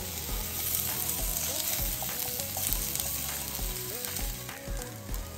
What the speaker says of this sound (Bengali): আমের দোনো পাশ হালকা করে ভেজে নিব।